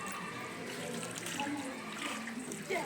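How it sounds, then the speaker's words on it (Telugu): Water poured over a patient's feet during foot washing at a primary health centre for lymphatic filariasis patients, a steady broadband splashing and pouring that runs throughout, close and continuous, with faint background voices. "ఇప్పుడు నీళ్ళు పోయమా"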